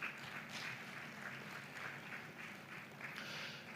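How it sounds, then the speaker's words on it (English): A summit audience at a Middle East and Africa digital transformation event gives a round of applause, a soft, steady patter of many hands that sounds fairly distant and continues throughout. "Another round of applause"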